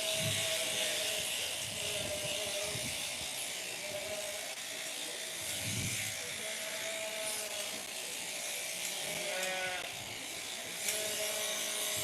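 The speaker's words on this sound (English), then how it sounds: "There's many different techniques for shearing sheep actually." Electric shears buzz steadily through a sheep's fleece during shearing, a continuous mid-level whirring hum with faint rubbing and an occasional soft bleat in the background.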